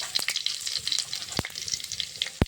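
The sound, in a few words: bay leaf, dried chili and cumin sizzling in mustard oil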